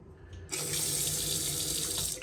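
A hotel bathroom sink tap is opened and runs a strong steady stream, a close, even rushing hiss of water that starts after a brief quiet moment and continues alone without talking.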